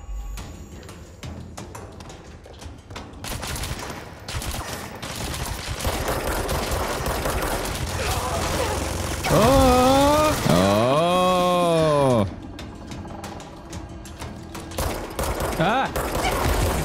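A minigun fires in long continuous roaring bursts in Control, loud and close, its whine rising and falling as it spins, with a dense gunfire bed throughout and other game sounds layered over it.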